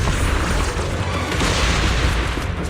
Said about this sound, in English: The cocoon is sending out blasts at intervals.